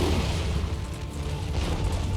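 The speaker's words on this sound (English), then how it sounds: "He is still bombarding these guys." Artillery bombardment in the Empire: Total War battle, dense low booms rolling together into a continuous rumbling barrage, loud and heavy, with no voices.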